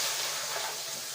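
Tomato juice hits hot oil with frying garlic in a pan, bursting into a loud, dense sizzle that hisses continuously for a moment at close range.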